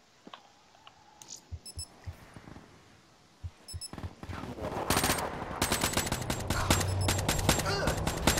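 Gunfire in the Black Ops 3 video game during a 2v2 tournament match, scattered single shots and clicks building into sustained rapid automatic fire, with some voice chat underneath.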